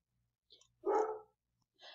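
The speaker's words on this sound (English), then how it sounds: "my dogs are barking" A dog lets out one distinct bark followed by a softer second one, fairly faint and indoors against near silence.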